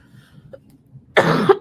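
A single person gives one short, loud, close cough after a few quiet seconds.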